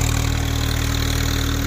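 A Swaraj 855 4x4 tractor engine drones steadily and loudly while pulling a cultivator in a field, a constant low throbbing hum with no break or change in pace.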